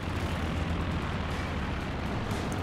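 Explosions from a strafing run in Company of Heroes 2, a dense, continuous rumble of blasts filling the whole stretch at steady loudness with no voices.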